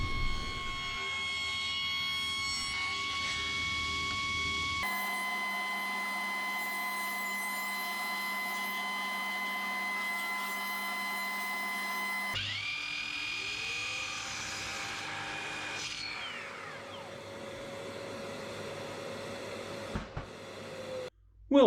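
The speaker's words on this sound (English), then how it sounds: "now I will cut this into 1x1 stripes" A table saw rips mahogany into 1x1 strips for a kumiko window panel: a steady, loud motor whine with shifting tones as the blade runs through the wood, then winds down near the end.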